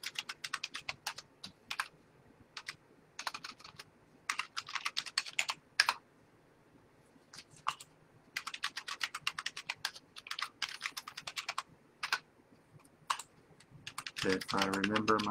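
Bursts of quick typing on a computer keyboard to log in, soft close clatter in irregular runs separated by pauses.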